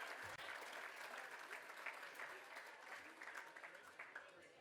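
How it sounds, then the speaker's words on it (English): A crowd at a fundraising gala claps steadily for several seconds, a full round of applause that fades slightly toward the end. "a big round of applause for Adam"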